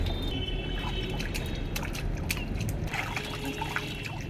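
Water poured from a mug beside a small backyard pool on a hot day, a soft steady trickle and splash under low background noise.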